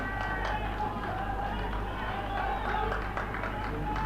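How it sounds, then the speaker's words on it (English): Cricket crowd and fielding team cheering at a T20 knockout match between Northern Cape Heat and Eastern Cape Iinyathi, a steady distant roar of voices with scattered clapping, under a low background hum. "You can hear the crowd and the fielding team here revved up for brilliance in the field there from the heat."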